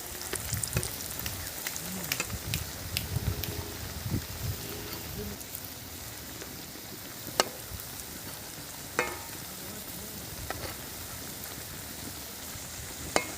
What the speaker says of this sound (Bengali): এবারে আমি যে কটা হয়েছে আমি তেলের মধ্যে ছেড়ে দিচ্ছি